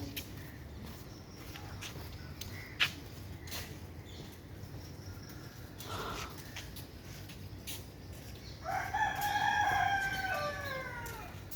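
A rooster crows once at dawn in the Dhanmondi area, a melodic drawn-out call heard near the end. It rises over a faint, steady background hum and scattered distant noises.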